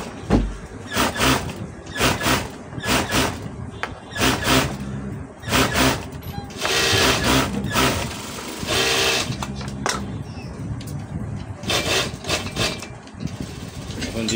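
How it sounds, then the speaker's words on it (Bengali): Sewing machine double-stitching the head of a blouse sleeve, running in short repeated bursts with brief pauses between them, close and fairly loud, with no talking. "ডাবল সেলাই দিতে হবে মাথায়।"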